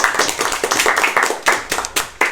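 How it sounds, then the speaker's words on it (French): A small group claps by hand for a chef who made pancakes, the claps close and uneven with sharp individual hits, continuing steadily with a faint voice underneath. "réalisés par Chef Maeva, on peut l'applaudir."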